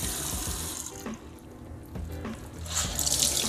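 Tap water running onto a washcloth over a sink, a steady splashing stream that briefly eases and then returns louder and brighter, heard close up with no talking.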